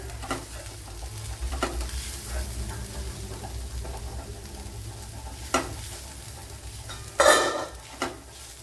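Ivy gourd (kovakka) fries in a pan while being stirred, with repeated scraping spoon strokes and clacks over a soft background sizzle, one sharper clatter near the end, and no talking.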